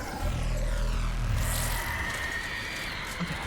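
A Banshee aircraft from the Halo video game flies past with a faint, steady buzzing engine drone and a thin high whine, heard at a distance under game ambience without talking.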